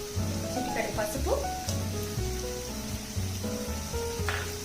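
Onion pieces with a pinch of turmeric and salt sizzle steadily in a pan, a continuous frying hiss with occasional stirring scrapes, while a faint voice and background music run underneath.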